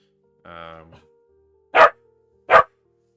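A dog gives two loud, sharp barks close by, spaced apart, after a brief spoken phrase from a person.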